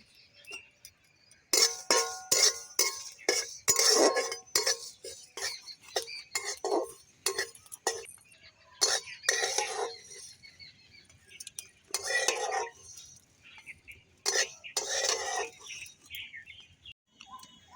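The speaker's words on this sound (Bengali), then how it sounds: "এগুলোকে আমরা একটু শুকনো খোলায় ভেজে নেব।" A spatula scrapes and clatters against a dry pan while panch phoron, coriander seeds, whole cumin and two dried red chillies roast without oil, giving rapid rhythmic scratchy bursts, then a few pauses and later clusters of stirring.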